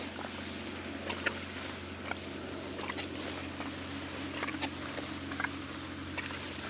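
Steady rain pours down in a dense, even hiss, with scattered louder drips and patter on hard surfaces close by, unbroken throughout and with no voices.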